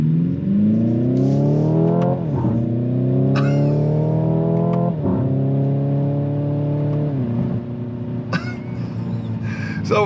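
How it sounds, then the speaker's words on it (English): Simulated gear-shifting engine sound from a Hyundai Ioniq 5 N electric car: a synthetic engine tone climbs in pitch, drops sharply at each virtual upshift, and repeats through several gears, loud and steady with faint cabin noise. "Ioniq 5N has got to be the simulated gear shifting"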